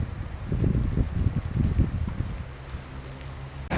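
Heavy rain pounds surfaces on Sabang Island, Indonesia, with gusty wind swelling and easing in a loud, dense, continuous roar, ending in a sudden burst.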